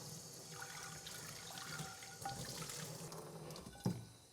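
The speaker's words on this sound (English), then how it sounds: "I'm going to go ahead and give it one more good rinse to get rid of any of the soapy suds there." Tap water running into a sink while a pan is rinsed, a soft, steady splashing stream with a small thump near the end.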